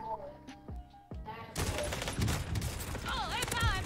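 Warzone video game gunfire: after a quieter opening of short sharp shots, a dense, continuous volley of rapid automatic fire erupts and keeps going, loud and close, with players talking over it.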